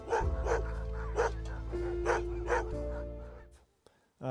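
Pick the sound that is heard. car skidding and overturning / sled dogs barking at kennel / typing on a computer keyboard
sled dogs barking at kennel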